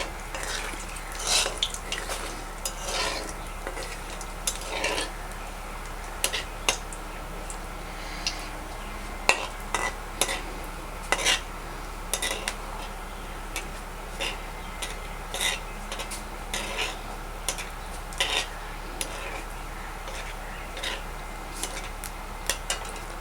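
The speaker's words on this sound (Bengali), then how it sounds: "প্রথমে একটা শুকনো লঙ্কা ফোড়ন দিলাম" Dry red chilli tempering in hot oil for a Bengali papaya pulao, stirred with a metal spoon: steady clinks and scrapes against the pan repeat throughout over a low background hiss.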